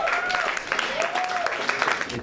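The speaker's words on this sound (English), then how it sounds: "You can applaud now, it's okay." Applause from a seated audience at a poetry performance, a dense patter of many hands under a few voices calling out nearby.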